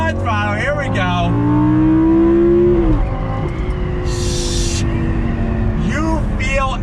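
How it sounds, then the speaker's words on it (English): A Lamborghini Gallardo engine climbs loudly in pitch under acceleration in third gear, drops sharply on a downshift, then gives a quick throttle blip. The engine sounds close and strong throughout. "Let me drop it down as you hear that blip of the throttle."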